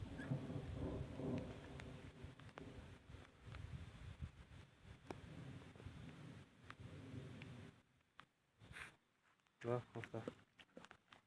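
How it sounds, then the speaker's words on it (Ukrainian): Soft, steady light rain patters outdoors beneath people talking while working on a Niva gearbox, with occasional footsteps and small knocks. "Пролітає трохи дощик."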